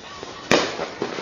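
A single New Year fireworks burst cracks sharply at mid-distance, followed by fainter pops and crackles against a quiet night background.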